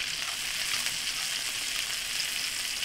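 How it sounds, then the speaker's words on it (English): Cod fillets fry in oil in a hot pan, giving a steady, dense, close sizzle that holds evenly throughout with no voices over it. "So you hear that sizzle?"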